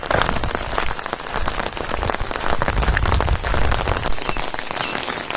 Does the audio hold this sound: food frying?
no